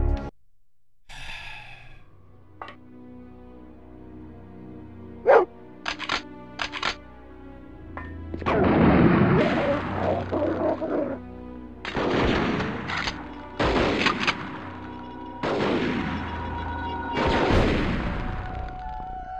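Gunshots in the PS2 game Dead to Rights, heard as several sharp, loud bursts in separate clusters with quiet gaps between them, some echoing tails, and no talking over them.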